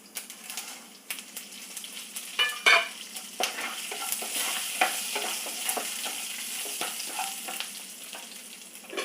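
Chillies, urad dal and chana dal crackle and sizzle in hot oil for a tempering, with a steady low frying hiss, scattered sharp pops and a few clinks of a stirring spoon nearby.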